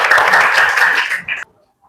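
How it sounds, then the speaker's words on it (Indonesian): A classroom of sixth-grade children clapping together in a loud, dense burst lasting over a second, then tapering off abruptly into silence. "Tepuk tangan buat kita semua."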